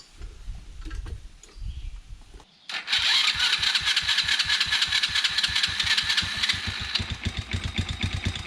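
A 110cc Chinese youth ATV engine cranks with a few rough sputters, then catches and settles into a loud, steady, rapidly pulsing idle close by.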